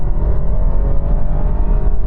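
A BMW 320i launching from a standstill with a bit of wheelspin, its engine droning loud and steady with a dense low rumble that holds throughout, no voices over it.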